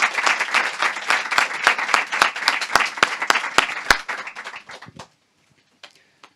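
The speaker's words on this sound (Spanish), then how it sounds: "Un gran aplauso para Julian Barnes." An audience applauds Julian Barnes at Librería Alberti bookshop, a dense burst of many hands clapping together that thins into scattered claps and fades out after about five seconds.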